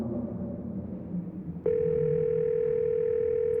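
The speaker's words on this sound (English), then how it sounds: "You pull out your phone and call." In a video game, a phone call connects: a low murmuring ambience gives way to a loud, steady telephone ringing tone that holds unbroken until it cuts off.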